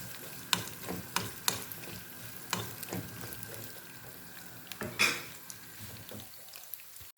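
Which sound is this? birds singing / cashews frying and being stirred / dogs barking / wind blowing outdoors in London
cashews frying and being stirred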